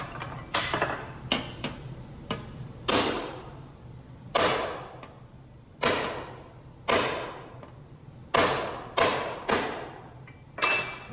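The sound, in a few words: hammering to form a sheet metal panel edge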